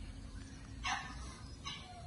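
A small female dog gives two short, high yips about a second apart, faint and slightly distant over a low indoor hum.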